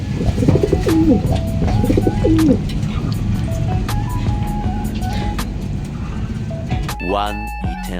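Racing pigeons coo near a loft during a training race, close repeated calls over background traffic, with people talking and a sharp burst of noise near the end.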